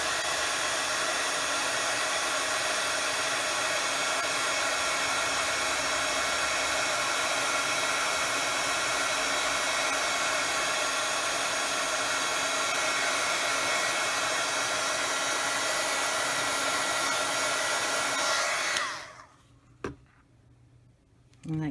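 A heat tool blows with a loud, steady whirring roar while it melts glitter on a watercolor card, then cuts off near the end, leaving a brief click and quiet.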